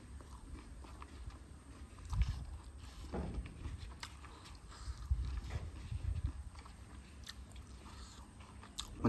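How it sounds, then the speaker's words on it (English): Slow, crunchy chewing of a crunchy fritter (Manipuri bora) close to the microphone, with soft bites and crackles repeating every few seconds in a quiet room. "Bora is still crunchy, and you can hear the sound, right?"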